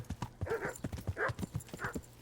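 Horse hooves clip-clop in a steady walking rhythm in Kingdom Come: Deliverance, a medieval game, with a light tack jingle over a low ambient hum, close and moderately loud, without speech.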